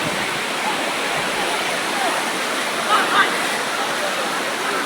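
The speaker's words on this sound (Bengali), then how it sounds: "ও অসাধারণ ঢেউ" Sea waves at Kuakata beach give a broad, continuous wash of surf noise, steady and fairly loud, with a brief faint voice-like sound partway through.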